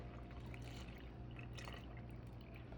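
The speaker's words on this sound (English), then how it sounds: "Now we're gonna add 3 cups of cold whole milk into our pudding." Cold whole milk pours steadily into pudding mix in a bowl, a soft continuous liquid stream with faint trickling under a low background hum.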